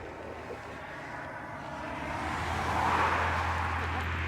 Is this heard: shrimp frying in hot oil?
no